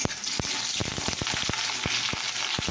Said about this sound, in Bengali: তো এবার পেঁয়াজটা দিয়ে ভেজে দিচ্ছি। দেখো সেখানে কাঁচা লঙ্কাটাও দিয়ে দিচ্ছি